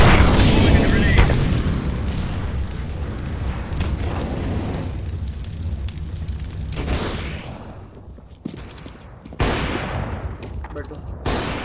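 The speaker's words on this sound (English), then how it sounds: "Throwing a grenade." A grenade goes off in the video game CS:GO, a loud booming blast with a rumbling tail, followed by further sharp game bangs and effects near the end.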